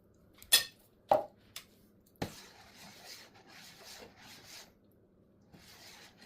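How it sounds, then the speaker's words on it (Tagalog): A spoon stirs plum cherry jam with coconut milk in a Saladmaster MP5 electric pot on low heat. A few sharp metallic clinks come first, then soft, quiet scraping and rubbing. "So after you add everything, you have to stir it."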